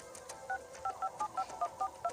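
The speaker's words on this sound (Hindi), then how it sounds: "जैसे ही उसने कॉल मिलाया, घंटी गई।" Touch-tone keypad beeps sound as a mobile phone number is dialed, about nine short evenly spaced dual tones in quick succession, close and clear over a quiet background.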